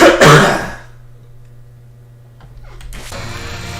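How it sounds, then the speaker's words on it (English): A gamer coughs and clears his throat in a quick burst at the start, close to the microphone, followed by quiet room hum and a soft rustle. "I can't be coughing now."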